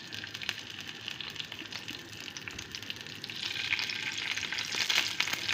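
Pieces of eggplant sizzle and crackle steadily in hot oil in a pan over the highest heat, the frying growing a little louder toward the end.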